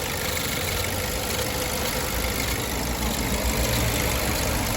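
A Nissan Juke engine idling steadily with a slight noise, heard close and continuous with no talking.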